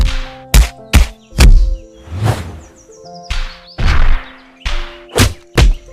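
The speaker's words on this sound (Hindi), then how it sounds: "वह उस चुड़ैल चिड़िया की पिटाई करता है।" Cartoon beating sound effects as a demon bird hits a witch bird: a rapid run of loud, punchy whacks and thuds with whooshing swishes between them, heard alone without talk.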